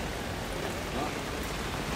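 Heavy rain pours during a storm with strong wind, a dense, steady hiss of falling water that fills the scene evenly from start to finish, fairly faint overall.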